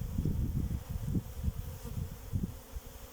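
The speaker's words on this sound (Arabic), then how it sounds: "كيف كتشوفوا النحل كيخرج كيتشمش" Honey bees at a hive entrance bringing in pollen in sunny weather, a close, dense buzzing hum that swells and fades as they fly past, with no voices.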